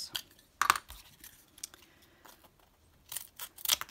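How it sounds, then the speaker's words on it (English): Scissors snip through cardboard in a few sharp, close cuts separated by quiet pauses, with no talk. "Scissors."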